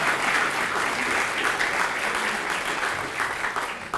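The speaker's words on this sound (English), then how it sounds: "Let's give him a round of applause." A crowd claps in sustained applause, dense and even throughout, fading slightly toward the end.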